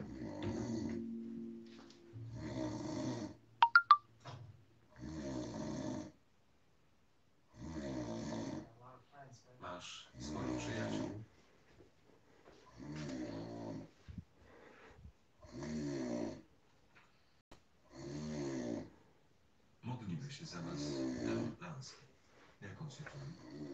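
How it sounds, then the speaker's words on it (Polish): Rhythmic snoring from a sleeping person, about nine long raspy breaths repeating every couple of seconds, fairly close, with a brief sharp click early on. "Bo tu jest akcja chrapania."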